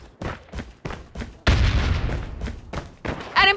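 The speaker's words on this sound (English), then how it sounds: "hostile sentry gun in your AO." A hostile sentry gun fires in Call of Duty: Mobile, sending out a string of sharp, booming shots at uneven intervals, with one heavier, sustained blast in the middle.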